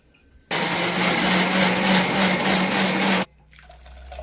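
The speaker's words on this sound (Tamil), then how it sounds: "மிக்ஸில தானே அரைக்க போறோம்" A mixer grinder blends coconut, starting abruptly into a loud, steady high-pitched whirring roar that runs for nearly three seconds, then cuts off sharply into quieter background noise.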